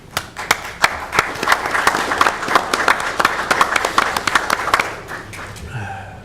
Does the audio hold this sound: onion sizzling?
no